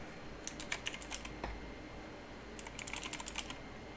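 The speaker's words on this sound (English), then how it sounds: "Let me type something." Quick bursts of typing on a computer keyboard, clustered into two short runs of close, crisp key clicks separated by a quiet pause, with no talking.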